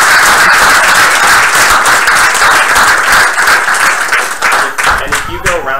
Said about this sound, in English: So a round of applause to FPNL and NextEra.